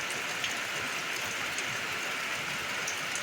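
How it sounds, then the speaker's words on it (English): Steady rain falls with fog moving in outdoors, a soft even hiss of drops spread evenly across the whole stretch, fairly quiet and with no talk. "so thankful for this rain, and the fog is starting to move in."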